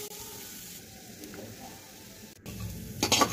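Masala with grated coconut roasting in a pan for chicken dak bungalow: a soft, steady sizzle with occasional stirring scrapes, and louder scraping and clatter near the end.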